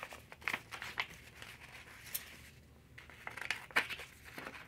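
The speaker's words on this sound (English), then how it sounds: "now I'm going to cut a strip of blue, and this blue is very pretty, so I'm going to cut a strip of it" Blue magazine paper being cut into a strip with scissors, heard as a few faint, crisp snips and crinkles spread through a quiet room.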